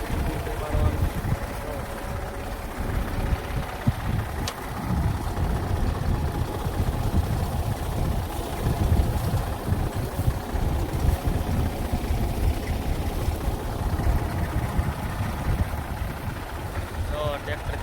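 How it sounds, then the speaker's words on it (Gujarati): A tractor engine runs steadily outdoors during peanut digging, a continuous low rumble with wind noise over the microphone. "ટ્રેક્ટર આવેલું જાય છે અને પાછળ આપણે જ્યાં મગફળી ભરાય ને ત્યાં આપણે કાઢવાની"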